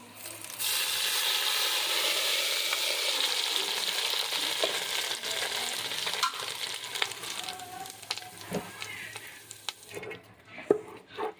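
Hot oil tempering hits a pan of bathua and mustard greens with a loud, close sizzle that slowly fades, followed by a few clinks and stirring sounds.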